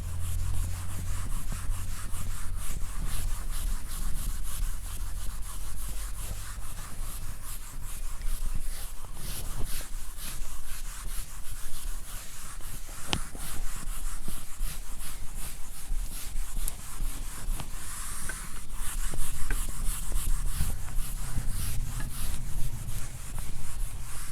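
A duster or eraser rubs writing off a classroom board during a vector calculus lecture, giving long continuous scratchy wiping strokes, close and fairly loud, with no talking.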